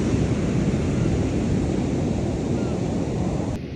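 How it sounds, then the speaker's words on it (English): Steady ocean surf at the beach in Ocean City, Maryland, rolling as a continuous broadband wash with wind rumbling against the microphone, holding loud and even before easing slightly at the end. "had to clip some of this ocean in there to y'all."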